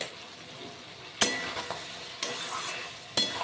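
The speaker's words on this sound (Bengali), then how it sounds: "খুব ভালো করে এবার কষিয়ে নেব আরও 2 মিনিট মতো" Raw banana curry being sautéed in a pan, a steady sizzle of frying with three sharp spatula scrapes and stirring knocks spaced about a second apart, close and fairly loud, no talking.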